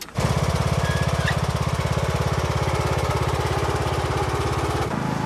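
John Deere tractor engine running steadily, a loud, close, rapid chugging throb that holds evenly for several seconds before its pitch drops near the end.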